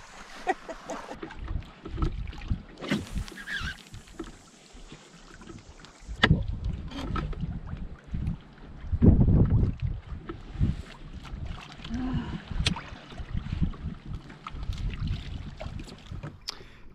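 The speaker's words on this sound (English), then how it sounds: "testing out the new pedal drive canoe system" Skin-on-frame canoe with a pedal drive moving across water in Baja, Mexico, giving steady splashing and churning with wind buffeting the microphone and a few louder surges of water along the way.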